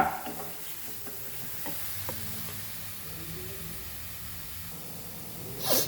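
Pork in Goan green masala for sorpotel sizzles steadily in a pan, a soft continuous frying hiss with light stirring scrapes and small clinks, fairly quiet and close, with no talking.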